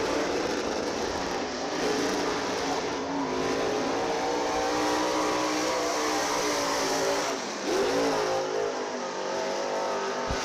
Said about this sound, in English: Fast 5 late model qualifying. First car to take time driving the 18L.